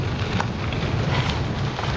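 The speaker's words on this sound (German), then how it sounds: "richtig windig heute" Steady, roaring wind buffeting the microphone on a bikepacking trip in Denmark, loud and continuous with no pauses and no talk.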